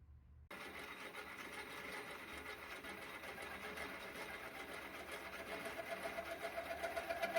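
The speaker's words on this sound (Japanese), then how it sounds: "振動が出てビビってしまいました。" A small lathe cutting metal with a homemade finishing tool bit, chattering from vibration: a steady buzzing, rattling whir that starts abruptly and grows into a pulsing, stronger chatter toward the end, close and moderately loud.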